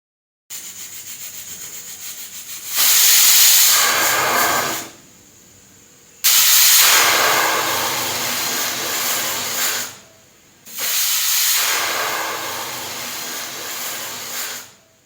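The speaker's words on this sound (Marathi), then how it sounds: "कुकरच्या 3 शिट्ट्या झालेल्या आहेत" Steam hisses loudly from a pressure cooker of tomatoes on high heat in a home kitchen, in three long whistling bursts separated by short quiet gaps.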